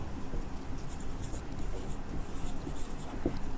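Pen scratching on paper during a Class 10 trigonometry math lesson, soft continuous strokes up close, faint and unaccompanied by speech.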